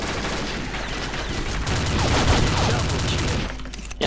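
A Scar L rifle fires in the Combat Arms video game, a loud, rapid stream of close gunshots that keeps going steadily and then breaks off just before the end.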